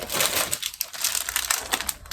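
Plastic refrigerator bag packaging crinkles close by in quick, irregular rustling bursts with no voices.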